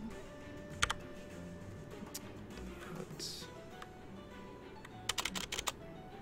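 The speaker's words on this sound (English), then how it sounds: "ignore the typing, guys." Computer keyboard typing during a live stream, with scattered clicks early on and a quicker burst of keystrokes near the end, faint against steady background noise.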